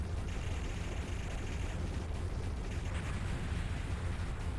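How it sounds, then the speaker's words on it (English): A turret blows up off-screen in the arcade shooter Raiden Fighters, a dense rumbling burst that holds steady across the whole stretch amid continuous game noise, fairly faint in level. "You hear the explosion, the off-screen turret that's annoying is dead"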